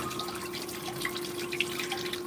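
Water swirls and trickles steadily in a blue bowl gold concentrator while black sands are worked, a continuous close running-water wash with faint drips.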